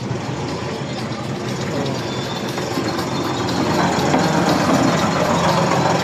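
A small motorboat's engine gives a steady low drone throughout, close and constant, growing slightly louder toward the end with rushing noise layered over it.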